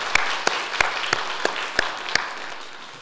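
Members of a church congregation at a Sunday worship service clap together in a loud, close round of applause, a dense patter of many hands with a few sharper claps standing out, fading slightly toward the end.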